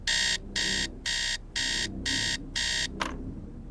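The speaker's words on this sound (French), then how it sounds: "À 2h30, le réveil sonne." An alarm clock rings at 2:30 in the night with a loud, close electronic buzz in six even bursts separated by short gaps, then a single sharp click as it stops.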